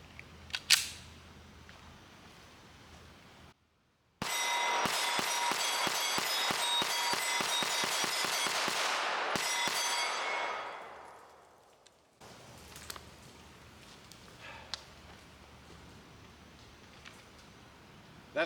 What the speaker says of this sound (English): Let me shoot this mag and we'll see.